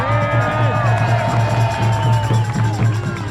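Large outdoor crowd at a freedom rally in Calgary, a dense continuous swell of cheering and whooping with a steady hum underneath, broad and sustained without pause.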